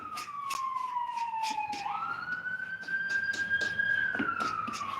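An ambulance siren wails in long sweeping tones, rising and falling as it moves along the road and grows gradually louder toward the end. It sounds moderately distant over faint street noise.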